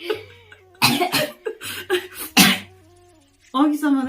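Several harsh, forceful coughs burst out close and loud in quick clusters from a person eating during a home meal, followed by a short voiced utterance as the fit eases.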